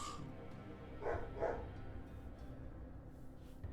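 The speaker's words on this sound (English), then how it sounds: "The ghost dog's barks echo through the Halleck's mausoleum." Ghost dogs barking in a mausoleum during a tabletop D&D game, two distinct echoing barks close together over a quiet low background hum, fairly faint.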